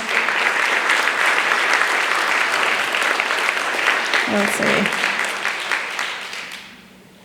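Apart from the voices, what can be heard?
audience applause for educational partners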